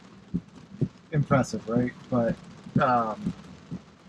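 Steady rain patter inside a Tesla driving on its v12 end-to-end Full Self-Driving system, a constant background wash under a voice speaking throughout.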